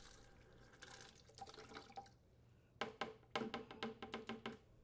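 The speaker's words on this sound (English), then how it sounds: "rotate the T-handle on the shutoff valve counterclockwise to fully open and flush out the copper tubing" Water spurts and splashes from copper tubing flushed through an opened T-handle shutoff valve during an ice maker hookup, heard faintly at first and then as a series of short, close bursts.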